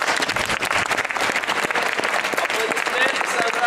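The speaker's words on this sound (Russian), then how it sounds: "Аплодисменты Sunrise." Audience applauding team Sunrise at an LPL 2010 award ceremony, steady dense clapping from a crowd throughout, with voices murmuring underneath.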